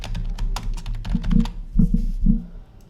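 Keys on a computer keyboard clatter in a quick, uneven burst of close taps while text is entered in Photoshop, with no talking.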